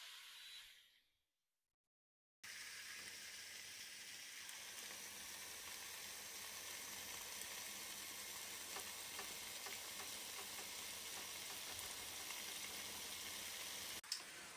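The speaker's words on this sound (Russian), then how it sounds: "чем мне нравится электрогриль, давно, кстати, хотел себе электрогриль, тем, что здесь не надо ничего переворачивать, как на сковородке" Chicken sizzles steadily on a closed electric contact grill, a continuous soft frying hiss heard close after a brief silence, with one small click near the end and no talk.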